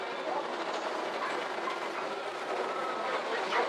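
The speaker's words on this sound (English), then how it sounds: "Again, we're going to cross a bumpy and narrow bridge." A safari park vehicle in Bali rolls across a bumpy, narrow bridge, making a continuous, fairly close rumbling clatter with no talk.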